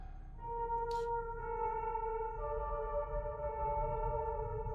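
A few sustained piano-like notes are played on a glowing keyboard in the video game Fatal Frame: Mask of the Lunar Eclipse, clean tones stepping in sequence, with a short bright chime near the start.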